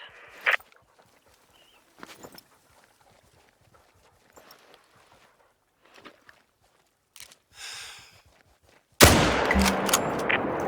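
A hunting rifle fires once in theHunter: Call of the Wild: after scattered quiet footsteps and small rustles, a sudden loud blast hits near the end and rolls on in a sustained, booming tail.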